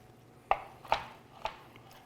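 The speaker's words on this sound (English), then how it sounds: "All right, I'm going to chop these up." Pitted Kalamata olives being chopped on a cutting board: three separate knife strikes, each a crisp thunk, spaced about half a second apart, close and moderately loud with no talking.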